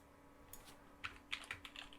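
Several quick keystrokes on a computer keyboard, crisp close clicks in a short irregular burst over a quiet background.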